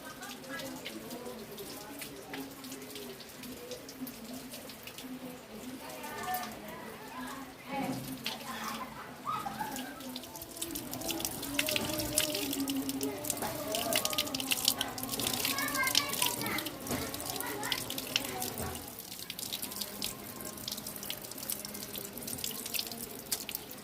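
Tap water runs and splashes steadily into a sink while wild mushrooms found in a pine forest are rinsed, with voices and children talking nearby throughout.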